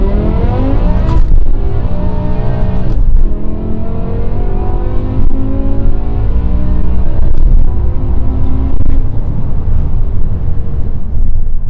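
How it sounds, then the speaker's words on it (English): A 2007 BMW E63 M6 with a 5-liter naturally aspirated V10 revs hard and accelerates, its engine note loud and close, climbing repeatedly in pitch through several surges with no talking. "This is a 5-liter naturally aspirated V10 engine"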